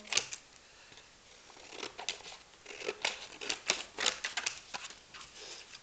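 Scissors snipping through material for a handmade basket, a run of crisp, close cuts in an irregular rhythm that grows busier and denser toward the end, with no talking.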